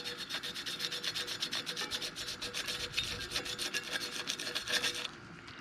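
Close, brisk rubbing scrubs the underside of a mountain bike disc brake rotor with the rotor left on the bike, a steady rasping back-and-forth that runs for about five seconds and then stops abruptly.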